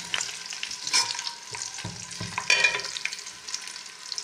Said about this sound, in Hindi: घी डाल के प्याज ब्राउन हो गए